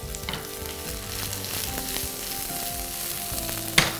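Garlic sizzling in a pan while cooking shakshuka, a steady crackling fry heard alone and close, with a brief sharper clink near the end.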